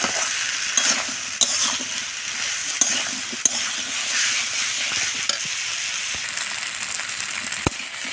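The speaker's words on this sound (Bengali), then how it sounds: "কুমড়োগুলো দিয়েও অল্প কষে নেব।" Pumpkin pieces sauté and sizzle in oiled spice masala for a country-style curry, with steady frying hiss and repeated scrapes and clinks of a stirring spoon against the pan, close and without talk.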